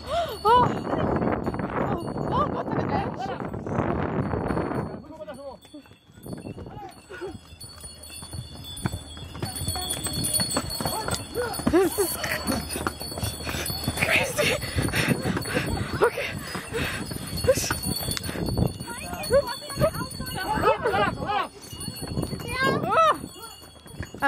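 Donkeys clip-clop along a steep path on the volcanic island of Santorini, Greece, hooves knocking steadily with faint bell tinkles, under frightened shouting and talk from riders throughout.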